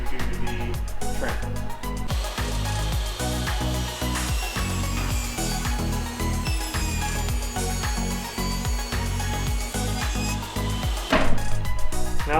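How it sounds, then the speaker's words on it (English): Saw ripping leftover 1x2 boards into trim strips, a loud continuous whining cut with rhythmic pulsing as the wood feeds through, steady for over ten seconds. "I am going to use our leftover 1x2s to rip them to do the trim."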